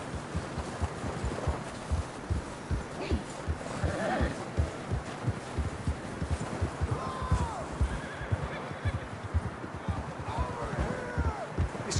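Horses in Red Dead Redemption 2 whinny several times over a steady, rhythmic thud of hooves, with faint voices now and then.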